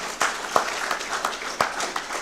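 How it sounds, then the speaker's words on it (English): A small audience at a community gathering in a multipurpose hall gives a few scattered, sparse claps. "Give her a round of applause."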